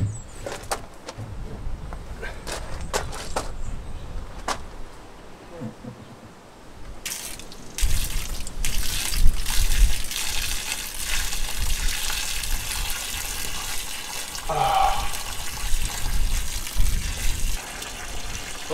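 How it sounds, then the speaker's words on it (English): A large volume of water gushes and pours out during a camper van garage cork wall insulation job, the flow surging louder partway through as a broad rushing noise that dominates the clip. "Oh God, that's so much water."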